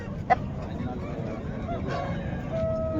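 At a Friday poultry market, chickens cluck and call amid a busy low murmur of people talking, with a short sharp squawk near the start and brief bird cries toward the end.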